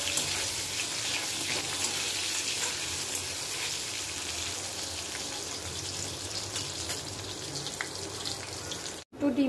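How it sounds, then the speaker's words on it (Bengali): Potatoes fry in a pan for egg curry, a loud, dense, steady sizzle close by that continues without a break until a brief cut near the end, with no talking. "আলুগুলো ভেজে নিচ্ছি, মানে থাকলিয়ে নিচ্ছি আর কি ডিমের তরকারি বানাবার জন্য।"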